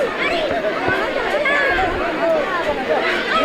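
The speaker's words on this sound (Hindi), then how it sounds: "भैया बहुत ज़्यादा भीड़ है ते पे, बहुत ज़्यादा भीड़ है" A dense crowd at a religious fair with roadside stalls, many overlapping voices forming a close, continuous babble.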